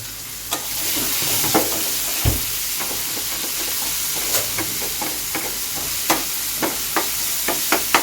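Tomatoes cooking in a pan for a mourala fish curry give a steady frying sizzle, with occasional stirring clicks and scrapes throughout and no talking.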